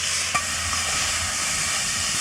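Food browning in a pan on a camping gas stove, a loud continuous hiss and sizzle with a single faint knock early on and no speech.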